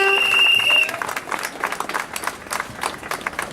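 An audience at a speech on a regional train dispute breaks into applause after a brief tonal voice-like opening, then sustains a dense, fairly loud clatter of many hands clapping with no talk over it.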